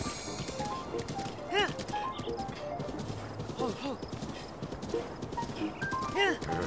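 Horse hooves clip-clop steadily in Zelda: Breath of the Wild, with several rising-and-falling whinnies breaking through over a busy layer of game sound.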